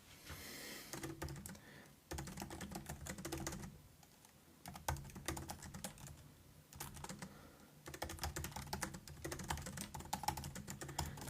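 A project description is typed on a computer keyboard in quick bursts of clattering keystrokes, broken by brief pauses, with no one speaking.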